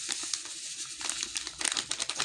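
A packet of jelly dessert powder crinkles and rustles near and steady in a quiet kitchen, with sharper crackling bursts toward the end as the plastic is handled.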